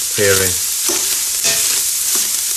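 Minced pork for bolognese sauce sizzles and crackles in a pan while a utensil scrapes and stirs it, with a few brief clinks over the constant hiss.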